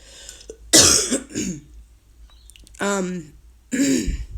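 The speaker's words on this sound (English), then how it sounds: "bloody cough" A close, harsh cough and throat clearing, followed by a short stretch of a person speaking and another rough throaty burst.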